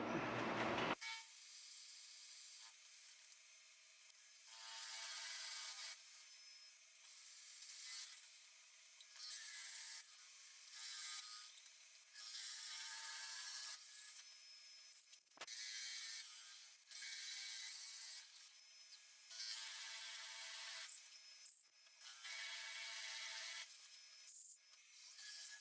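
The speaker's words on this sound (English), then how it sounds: "let's get this drilled out" A boxelder burl spins on a wood lathe while it is drilled out, giving a bright, hissing, grinding whir that comes in repeated bursts with short pauses between passes, with no voices.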